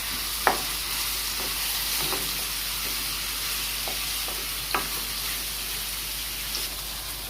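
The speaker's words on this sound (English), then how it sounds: "now I'm going in with my minced beef. Okay. I'm going to change this spoon. So I'm just going to break this up." Minced beef fries in a pan with a steady, dense sizzle. A spoon breaks up the meat with occasional sharp scrapes and taps, close by, with no voices.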